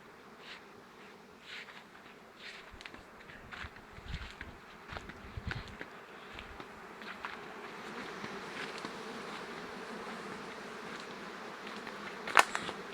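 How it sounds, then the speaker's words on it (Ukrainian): Steady buzzing of calm honeybees at hives on a sunflower field fills the air at close range, a continuous drone with individual bees passing near, and a sharp click near the end. "бджоли спокійні."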